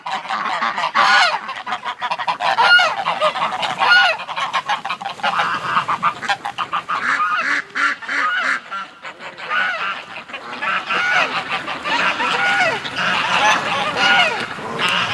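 A backyard flock of geese and ducks honks and quacks loudly and nearly nonstop, with many overlapping calls close to the microphone.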